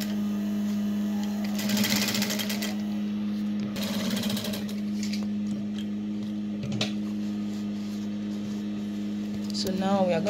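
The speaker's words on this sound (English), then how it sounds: "we are just going to sew in about 5 to 6 inches before we continue on the main fabric" A sewing machine stitches a flounce onto a full circle dress, humming steadily up close with brief bursts of faster stitching, while a person talks over it.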